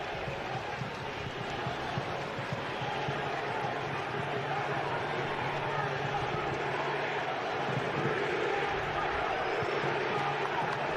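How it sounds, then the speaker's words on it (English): Raucous Tunisian crowd at a football match at BMO Field, a dense roar of voices and cheering that holds steady throughout, with a commentator talking over it. "It's a raucous Tunisian crowd at BMO Field tonight."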